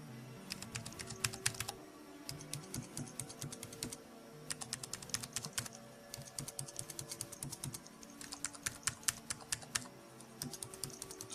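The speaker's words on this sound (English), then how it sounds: "See if you can get a little bit of a sound demonstration comparing the two." Close typing on a Matias Space Grey RGB wired Mac keyboard and an Apple keyboard, bursts of quick crisp key clicks in several runs separated by short pauses, quiet and alone.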